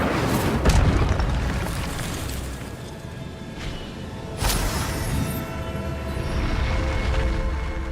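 An Incendio fire spell is cast in Hogwarts Legacy, a rumbling whoosh that swells with dull booms. A couple of sharper bursts rise over a loud, continuous low roar.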